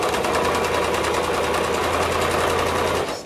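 A sewing machine runs a steady, rapid back stitch around a curve in fabric for a toddler maxi dress, its needle chatter continuous and close before stopping abruptly at the end.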